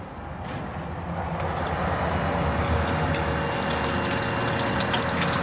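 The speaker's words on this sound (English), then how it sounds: "Front pump is working." A car's front fuel pump running during a repair test, a steady mechanical hum and whir building slightly and holding constant, with a faint higher whine on top.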